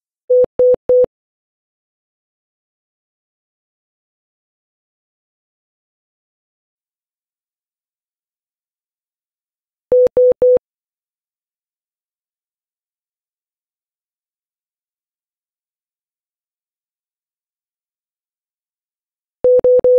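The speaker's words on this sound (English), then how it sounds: "We also tested another pre-alert that gives bursts of tones like this." Short bursts of three electronic beeps, a handover pre-alert in a semi-autonomous car, repeat about every ten seconds, with silence in between.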